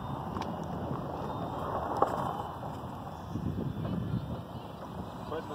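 Steady wind buffets the microphone with a low rumbling roar at an outdoor aerobatic model plane flight, constant and close, with faint talk mixed in.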